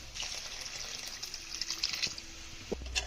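A glass of water is poured into green chicken curry masala paste, giving a quiet, splashy trickle with a few light clinks of the vessel toward the end.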